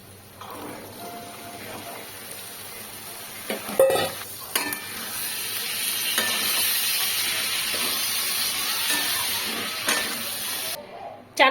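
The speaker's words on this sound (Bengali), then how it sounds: "এবার এর মধ্যে কিন্তু সেদ্ধ করা কাবলি ছোলাটা দিয়ে কষিয়ে তারপরে পনিরটা দেবো" Boiled kabuli chickpeas fry in an oily spice paste, giving a steady close hiss and sizzle with occasional stirring clatter throughout.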